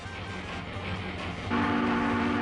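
A real train passing, with a steady rolling rumble and a sustained horn-like tone that swells louder and brighter partway through, heard alone without voices.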